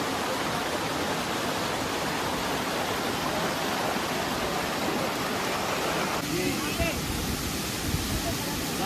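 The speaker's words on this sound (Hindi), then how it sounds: "ये रहा फाइनली वाटरफॉल," Steady, broadband roar of the Choie waterfall in Tirthan Valley, Kullu, Himachal Pradesh, heard close and continuous throughout with faint voices beneath.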